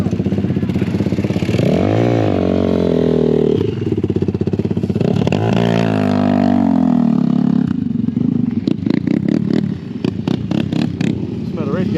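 An off-road motorcycle engine revs loud and close at an off-road event, pitch swinging up and down, then breaks into rapid popping bursts, with people talking over it.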